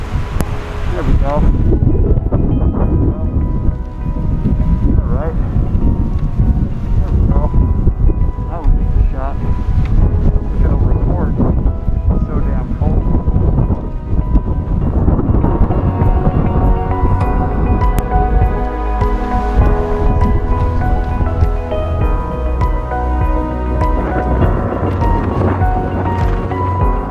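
Strong blizzard wind gusts roar through a Buffalo snowstorm in whiteout conditions. The rush is loud and constant and buffets the microphone the whole time, with a voice faintly under it.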